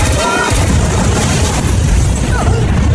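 A leaking gas cylinder explodes after a gunshot, giving a loud, deep boom with rumbling noise that fills the short moment.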